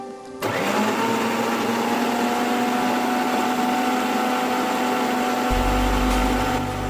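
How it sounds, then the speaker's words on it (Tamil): A mixer grinder runs steadily with a loud, constant whirring hum, blending beetroot juice continuously from start to finish with no talking. "இதை மூடி வச்சு மிக்ஸி ஆன் பண்ணி ஜூஸ் ரெடி பண்ணிடலாம்"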